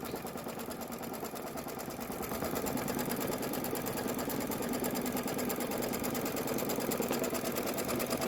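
An embroidery machine stitches quilting on a pickup truck design. It makes a steady, rapid mechanical whirring and clatter that runs continuously, close by, with no one talking.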